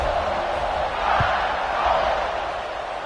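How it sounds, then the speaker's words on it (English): Stadium crowd in College Football 26 on PS5 during an Oklahoma versus Alabama game, a broad steady roar of many voices right after a score, even and loud throughout. "this crowd is buzzing after that last score"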